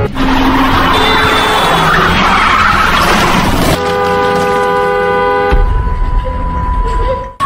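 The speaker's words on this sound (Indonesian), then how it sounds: "Karena John sedang oleng, mobilnya pun ikut oleng." A car swerves and skids as it is driven recklessly, a loud, continuous rush of tire and engine noise with sustained tonal squeals or horn-like tones and a sudden shift partway through, overlaid with dramatic film sound.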